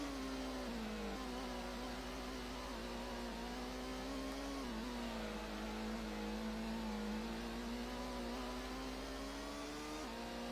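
A race car engine drones in Gran Turismo during a Megaspeed Cup race, with a sustained steady tone that dips and rises slightly as the car shifts and corners, alone without talk.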